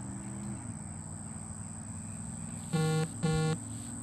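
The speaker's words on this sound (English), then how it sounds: "we should be able to hear the crickets and stuff going" A steady high cricket trill hums throughout over a low background drone, joined near the end by two louder, buzzing tonal honks in quick succession.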